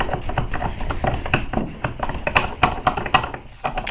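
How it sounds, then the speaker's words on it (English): Butcher's block oil is rubbed by hand into a metal railroad spike bottle opener, giving a close, rhythmic series of short rubbing and scraping strokes repeated briskly and evenly. "dip some of that into the oil and then just kind of rub it in"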